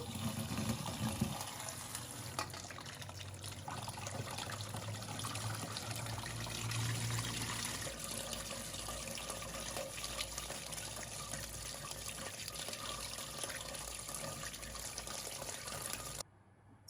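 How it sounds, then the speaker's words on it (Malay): Cooked sago rinsed in a strainer under running tap water, a steady, fairly quiet stream splashing continuously with no talk. "kemudian tapis dan lalukan bawah air yang mengalir."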